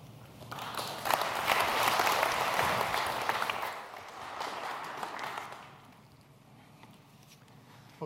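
A conference audience at an energy summit applauds to welcome a speaker, a steady patter of many hands for several seconds that gradually thins out and fades to quiet.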